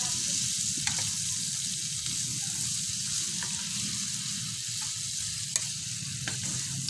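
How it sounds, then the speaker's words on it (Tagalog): Igado, a pork and liver dish, sizzles steadily as it fries in a pan for lunch at a campsite in Capas, Tarlac, with a few faint stirring clicks and no one talking. "Nagluluto na naman ang pananghalian namin."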